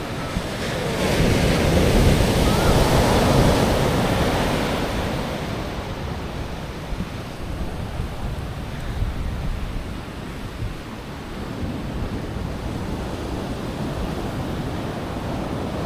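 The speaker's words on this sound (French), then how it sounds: "La taille des vagues." Ocean waves crash and wash along the coast of Nusa Penida island near Bali, a continuous roar of surf that peaks loudly early on before settling into a steadier rush mixed with buffeting wind.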